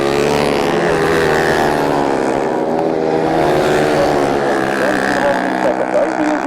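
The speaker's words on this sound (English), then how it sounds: "Does look a bit trick, that exhaust, and it's got like a megaphone into it." Grasstrack racing motorcycle engines, one fitted with a megaphone exhaust, drone loudly and continuously at a race meeting, with a commentator talking over them.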